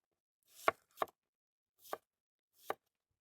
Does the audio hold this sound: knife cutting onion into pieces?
yes